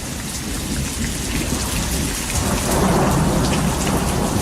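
Heavy rain pours steadily in a severe thunderstorm, a dense continuous hiss with a deep rumble of thunder swelling beneath it in the second half.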